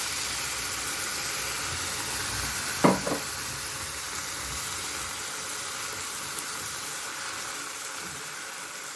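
Broth from a saucepan poured onto tomatoes frying for red borscht, giving a steady loud hissing sizzle throughout, with a brief clatter near the middle and no voices.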